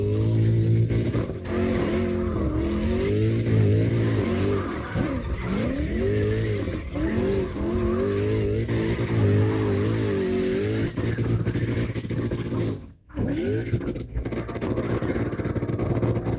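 A Mustang drifts in CarX Drift Racing, its engine revving hard in rising and falling waves with tire squeal along the slides, loud and sustained, broken by a brief dip near the end.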